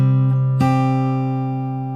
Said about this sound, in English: and then you pick the first 2 strings together